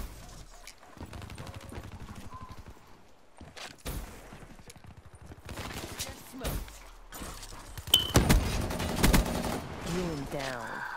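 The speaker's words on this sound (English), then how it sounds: "How is he shooting me that fast?" Gunfire in Black Ops 3 multiplayer, scattered sharp shots and short bursts throughout, growing denser and louder toward the end, with footsteps and a player talking over it.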